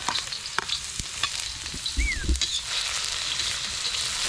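Ginger sizzles and fries steadily in a hot pan, with scattered crackles and the occasional clatter of a utensil stirring close by.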